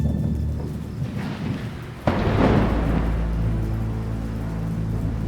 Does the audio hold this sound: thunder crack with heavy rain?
yes